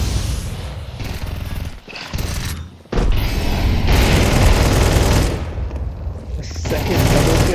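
Rapid gunfire from a Counter-Strike 2 match at the Cologne Major, dense bursts and booms running almost the whole time, loud and close, with excited commentary voices talking over it.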